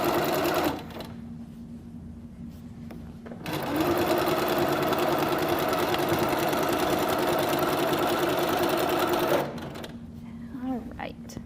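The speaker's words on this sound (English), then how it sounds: "Back stitch just a little bit, and we can sew." A Q'nique quilting sewing machine stitches through layers of quilt fabric, giving a steady loud mechanical whir for several seconds between quieter pauses, with someone talking near the start and end.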